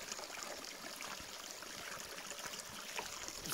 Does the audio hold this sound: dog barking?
no